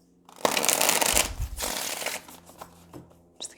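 Tarot cards shuffled by hand in a quick burst of papery riffling and slapping, close and fairly loud, lasting a couple of seconds before tapering into a few soft card taps.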